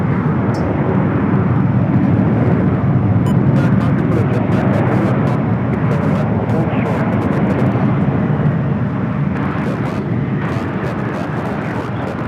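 A jet aircraft taxiing across runway 7 Right at LAX gives off a loud, continuous engine roar with a broad rumble that holds steady throughout.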